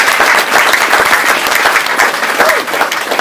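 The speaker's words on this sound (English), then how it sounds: "please give a warm round of applause for our speakers so far" An audience at a vegan festival panel applauds loudly and steadily, with dense, sustained clapping close by that fills the whole stretch and no break.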